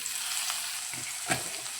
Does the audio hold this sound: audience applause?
no